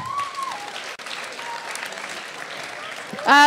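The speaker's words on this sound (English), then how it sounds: "Applaud the poet and not the points." Steady audience applause at a spoken word poetry event fills the room, with a voice speaking over the clapping and a short squeal of feedback near the end.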